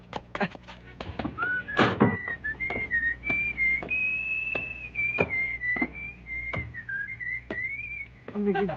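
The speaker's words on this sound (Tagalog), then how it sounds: "Ngayon, papito-pito ka pa." A man whistles a steady wavering tune close by, several seconds of sustained melody threaded with sharp clacks and knocks.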